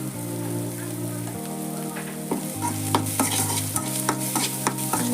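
Masala for chavalikai palya crackles and sizzles in a pan while being stirred, with a dense frying hiss broken by sharp scrapes and taps of the spoon, all fairly close.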